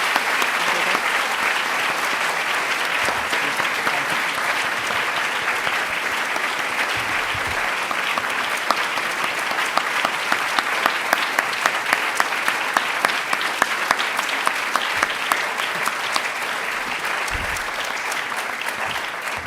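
Lecture audience giving sustained applause after a speech, a full, even roar of many hands clapping that continues for nearly twenty seconds with scattered sharper claps standing out.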